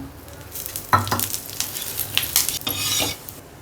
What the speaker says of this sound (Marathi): आता आपण धणे भाजून घेऊ थोडं तेल टाकू